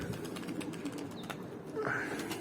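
Pigeons in a coop at an Antalya fancier's loft, brief bursts of wing flapping mixed with a few short chirps and coos, fairly close in a busy room.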